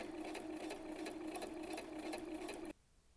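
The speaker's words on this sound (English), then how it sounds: "I'm just using my matching all-purpose thread, and I'm doing a regular width stitch" Sewing machine stitching along the folded edges of a framed clutch purse with all-purpose thread and a regular-width stitch, a steady close whirring hum that runs alone and stops abruptly near the end.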